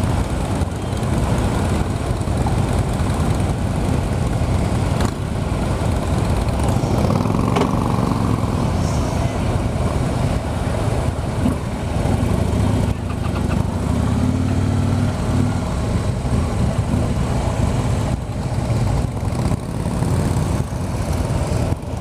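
A 2016 Harley-Davidson Road King, a heavy touring motorcycle, rumbles as it rides past at a demo event. The low engine drone holds steady and fairly loud throughout, mixed with broad outdoor noise.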